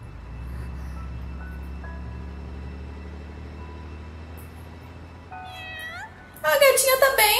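Cat meows ring out near the end of a Balan Wonderworld game scene, loud and bright, after a stretch of steady game music.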